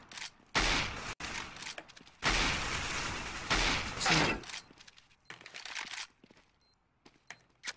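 Gunfire in a multiplayer shooter video game comes as several loud bursts of rapid shots separated by quieter gaps, with sharper single cracks toward the end.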